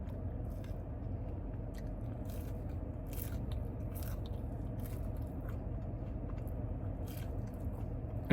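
Close, steady biting and chewing on crispy chicken McNugget skin, with small crunches and soft scraping running continuously and no talking.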